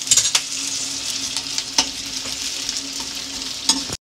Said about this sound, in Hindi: गाइस इसमें प्याज डाल दिए हैं, अभी इन्हें फ्राई करेंगे हम